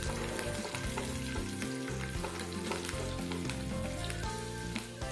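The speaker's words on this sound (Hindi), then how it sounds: "अब गर्म हो चुका है तो हम इसमें कटा हुआ प्याज डालेंगे और साथ ही इससे हम डालेंगे कटा हुआ हरा मिर्च" Chopped onion and green chilli fry in hot oil for chow mein, a loud, steady close-up sizzle with crackling pops and occasional scraping stirs throughout.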